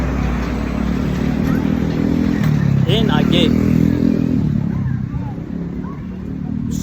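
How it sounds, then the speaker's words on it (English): A loud truck rumbles past close by on a street, its heavy engine roar filling the clip and fading slightly toward the end, with someone talking over it. "this truck is mad loud"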